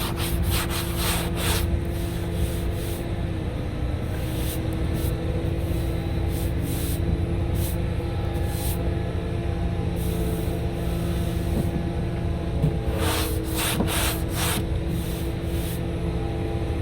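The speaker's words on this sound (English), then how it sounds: "80 grit on the 11-inch Durablock, block it down with," An 11-inch Durablock with 80 grit sandpaper block-sands body filler over dents on a car door, a close, continuous abrasive rubbing with repeated back-and-forth strokes and no voices.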